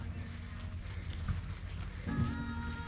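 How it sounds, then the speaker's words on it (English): Several horses being readied for a trail ride at the Gallagher Road parking area of Fair Hill NRMA give off scattered, close hoof clops and shuffling, under a person's talking. "Up to 3 horses here getting ready to head"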